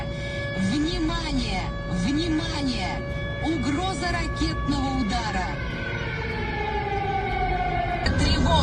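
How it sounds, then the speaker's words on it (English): A wailing air raid siren played over the radio rises and falls in repeated sweeps over a steady hum, with voices talking faintly underneath. "only a siren played instead of favorite songs"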